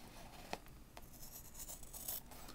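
A pair of scissors cutting across leather for a small pouch, heard as faint, close snips and clicks with a few sharper cuts.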